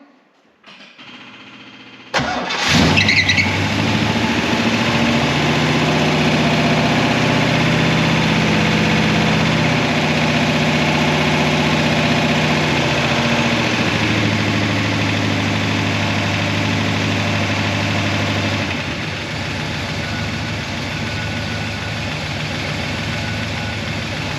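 A 1966 Oldsmobile 442 engine fitted with an Edelbrock carburetor cranks over, catches and settles into a loud, steady, close idle that goes on without a break and eases slightly toward the end.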